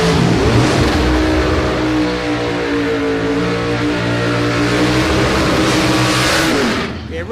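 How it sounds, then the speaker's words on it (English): Drag racing cars at a street challenge meet, an XE Falcon and a 57 Chev, roar loudly and steadily for about seven seconds, engines revving hard with rising harmonic tones before cutting off at the end. "We've got some top sportsman type vehicles coming out now."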